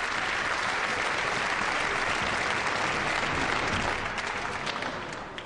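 A bowling tournament crowd at the World Masters applauds and cheers loudly for Jason Belmonte, producing a dense, continuous roar of clapping that eases slightly toward the end.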